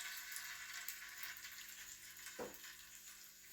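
Small eggplants frying in hot oil for a brinjal fry dish, a steady soft sizzle throughout with a brief stirring disturbance midway, heard alone without talk.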